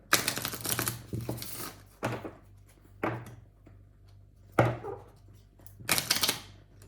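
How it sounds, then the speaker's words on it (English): Tarot cards are shuffled in short, crisp riffling bursts separated by quiet pauses, close and fairly soft, with no talking. "A clear shuffle for Pisces for the month of May."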